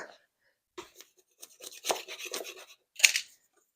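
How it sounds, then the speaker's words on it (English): A small scraper scrapes stuck debris off a black and white checkered floor inside a Ram ProMaster campervan build, giving a few short, close scratchy strokes in uneven bursts with quiet gaps between them. "I need to get my little scraper because I'm seeing something over here that's stuck"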